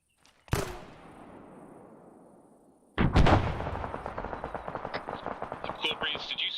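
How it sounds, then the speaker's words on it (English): Gunfire in the military shooter Arma 3: a sharp shot with a long echoing tail, then a dense stretch of rapid automatic fire and cracking incoming rounds, fairly distant and continuous. "there's rounds coming in, sounds like northwest"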